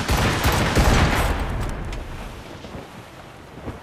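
Naval cannon volley from a sailing warship in Assassin's Creed Rogue, a dense rolling barrage of booms blending with wind and sea noise, loudest at the start and fading into a low rumble.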